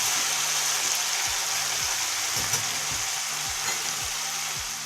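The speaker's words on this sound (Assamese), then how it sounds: "ইয়াতে দিম এতিয়া মই বটি থোৱা বিলাহী পেষ্টটো মই ইয়াতে দি দিছোঁ" Tomato paste sizzles and fries in hot masala as it is stirred into a soybean curry base, a steady close crackle running throughout with a soft low rhythmic hum beneath.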